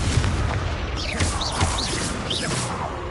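The Confringo blasting spell in Hogwarts Legacy gives a dense, noisy burst of explosive rumble and crackle that carries on throughout, with whistling, swooping magical tones rising and falling on top.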